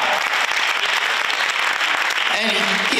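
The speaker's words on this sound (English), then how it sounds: "Let's clap for Roz." An audience claps loudly and steadily for the mayor at an arts center event, dense applause filling the space, with a voice starting to speak near the end.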